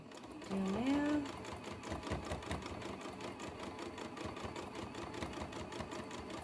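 A sewing machine stitches through a fabric book cover, its steady rapid mechanical rhythm running continuously behind a woman's brief speech near the start.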